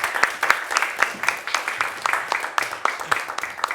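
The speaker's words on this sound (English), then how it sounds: "can we get another round of applause, please" Audience applause at a pain education livestream event, a steady run of close, distinct claps from a modest crowd, lasting a few seconds with murmurs of voices underneath.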